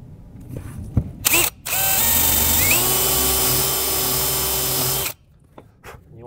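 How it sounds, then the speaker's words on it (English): A power drill drives a half-inch bit into a wooden rail, whirring loud and steady for about three and a half seconds with a short burst just before, then stopping. "first thing I need to do is run a half-inch bit in, right in the center of where I want that screw to come in"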